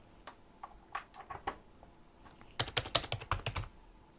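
Typing on a computer keyboard at a desk, a few scattered key taps followed by a quick, close burst of clicky keystrokes, fairly faint overall.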